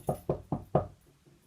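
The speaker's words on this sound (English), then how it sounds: "Let's try knocking again." Four crisp, evenly spaced knocks on a door, loud and close, followed by a brief quiet tail with no talking.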